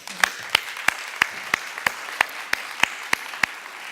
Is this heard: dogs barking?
no